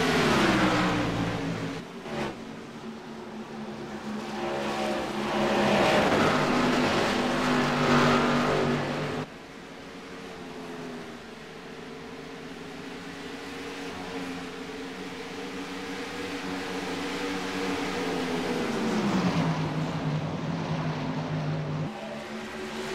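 Race cars roar around the track, engines droning loud and continuous with rising and falling pitch as they accelerate and pass, several machines layered together and no voices over them.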